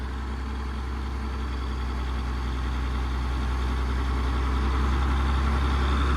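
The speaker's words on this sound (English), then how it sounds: "So this is the same engine that would be in my International crawler loaders." An old International rubber-tire backhoe, fitted with the same engine as International crawler loaders, idles with a loud, steady low diesel rumble that stays close and continuous throughout, with no voices.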